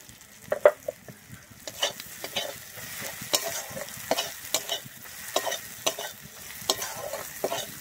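Spice masala of cumin and coriander powder being sautéed for a sheem (flat bean) curry, with repeated scraping stir strokes over a low steady sizzle, close and moderately loud, no talk.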